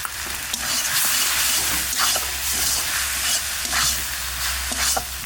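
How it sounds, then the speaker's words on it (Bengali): Fried greens being stirred with dry rice flour in a hot pan: continuous loud sizzling with repeated spatula scrapes and stirring swells, close up and without speech. "এবার চালের গুঁড়ি দিয়ে একটু নাড়াচাড়া দিয়ে নামিয়ে দেবো।"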